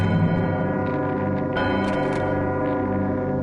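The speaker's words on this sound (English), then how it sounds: "ooh, a bell!" A deep bell tolls and resonates inside the video game Psychonauts, its rich ringing filling the space alongside a steady layered background tone with no talking.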